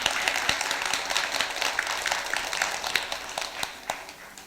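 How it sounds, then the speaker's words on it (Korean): A small gathering at a Buddhist temple Sunday service claps, with sparse, distinct hand claps and taps forming a light, uneven applause at moderate distance. "박수 한번 주세요"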